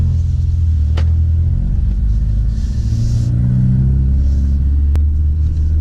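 A 2016-2018 Ford Focus RS fitted with an MRT cat-back performance exhaust cruises in normal driving mode, giving a loud, steady low exhaust rumble throughout with slight swells under light acceleration.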